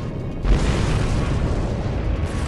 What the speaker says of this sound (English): And the cube is gone. It's come to a full stop so I don't fly into the explosion.